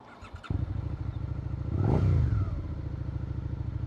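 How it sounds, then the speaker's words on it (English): A Suzuki SV650 motorcycle engine, running unrestricted, close by with a steady throaty rumble, swelling louder as the rider accelerates, then settling into a rough, even drone. "So first off, the bike sounds a lot louder"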